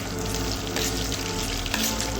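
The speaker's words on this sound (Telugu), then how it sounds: "అలాగే మనం కారానికి సరిపడా మిరపకాయలు వేసుకొని వేయించుకోవాలి." Chillies frying in hot oil in a pan give a loud, continuous crackling sizzle with bright spitting bursts, close up and steady throughout, with no one talking.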